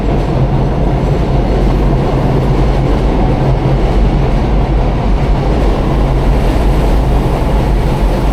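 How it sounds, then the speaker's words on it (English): An elevated subway train rumbles past overhead above Jerome Avenue in the Bronx, loud and continuous, with a heavy low roar and rattling rail noise. "Oh, here goes the subway. The subway line runs above Jerome Ave."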